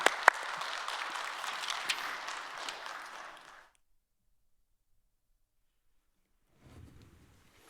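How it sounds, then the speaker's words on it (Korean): A church congregation applauds to welcome a missionary at a Wednesday service, a few sharp claps leading into a moderate crowd of clapping that fades out, then silence, with faint voices returning at the end. "나오실 때 힘찬 박수로 환영해 주시기 바랍니다."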